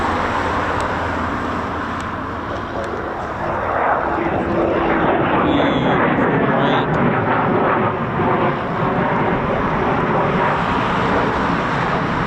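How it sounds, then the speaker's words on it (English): The Battle of Britain Memorial Flight's Spitfire PR. XIX flies past, its propeller engine swelling into a loud, sustained roar that lingers, with people talking over it. "Oh, what a lovely surprise to get that Spitfire."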